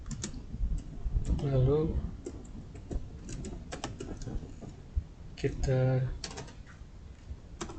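Keyboard keys clatter in short irregular bursts while a person speaks over most of the typing, with the clicks staying near and fairly quiet.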